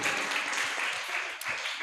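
Audience applause after a speaker introduction at a youth conference talk session, a steady broadband clatter of many hands filling the short stretch at even loudness, with no voices over it.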